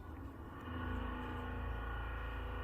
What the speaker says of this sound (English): It's because of this construction nearby